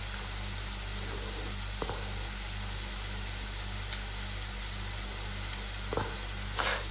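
Tofu sisig frying in a pan, a continuous close hiss of sizzling oil under a low steady hum, broken by a few clacks of stirring.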